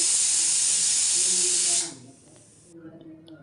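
A pressure cooker cooking avarekalu (field bean) pulao vents steam in a loud, steady hiss for about two seconds, then cuts off, leaving only faint low background noise.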